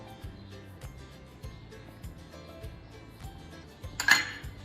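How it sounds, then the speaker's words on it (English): Grated potato, cayenne pepper, spring onion and olive oil being mixed by hand in a bowl for hash browns, with soft repeated scraping and a light clink of a utensil against the bowl near the end, close and fairly quiet. "And mix everything together."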